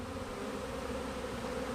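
A swarm of honey bees buzzes around a cage, a dense, steady hum of many wings close by with no breaks and no voices.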